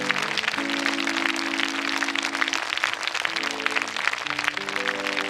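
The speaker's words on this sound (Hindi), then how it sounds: "जोरदार हाथ उठा के ताली बजा के परमेश्वर का" A prayer meeting congregation claps loudly together in a dense, steady burst, while sustained organ or keyboard chords play beneath the applause.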